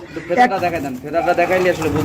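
Several Lotan pigeons coo in low, throaty rolling calls close by at a pigeon farm, overlapping in a steady murmur.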